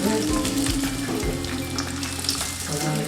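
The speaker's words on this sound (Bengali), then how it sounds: "গরম হওয়ার পরে এগুলো থাকা তেলে ভাজছি" Stuffed kachuri fry in hot oil in a kadai, a continuous bubbling sizzle with crackling spits and faint utensil sounds, steady and fairly quiet without speech.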